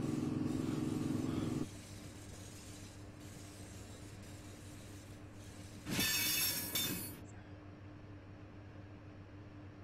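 Class 465 electric train slowing to a stop in Train Simulator on the Chatham Main Line: a steady low rumble that drops after a couple of seconds, then a short loud hiss-like burst, with no voices.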